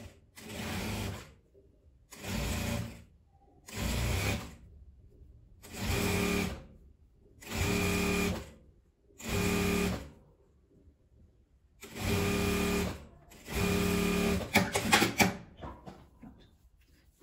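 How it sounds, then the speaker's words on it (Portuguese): A sewing machine stitching around a beret in seven loud, evenly spaced bursts of rapid whirring, each about a second long and separated by short pauses, the last burst ending in a few clicks, with no talking. "Costurei ela aqui em volta toda."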